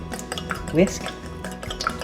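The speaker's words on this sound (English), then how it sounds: "Whisk." Eggs being whisked in a small bowl, quick irregular clinks and scrapes of a utensil against the bowl, close and fairly loud, with a short voiced sound in the middle.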